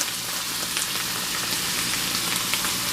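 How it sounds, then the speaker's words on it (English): Hash browns and peppers sizzle and crackle steadily in a hot pan at a campsite, a constant frying hiss with small pops throughout. "Just frying up the hash brown and peppers."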